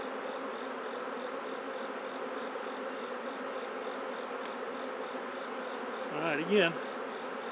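Honeybees hum in a soft, continuous drone around an open hive during an equinox inspection, with a brief spoken remark near the end.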